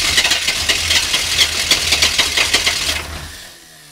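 A diesel plow truck engine in cold weather cranks over with a rapid rhythmic chugging for about three seconds, loud and close, then the sound drops away.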